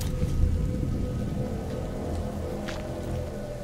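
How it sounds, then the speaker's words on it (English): Steady rain pours down in A Plague Tale: Innocence, a continuous dense hiss of falling water with faint distant thunder rumbling underneath, and no talking over it. "Lucas, Hugo, stay out of the rain"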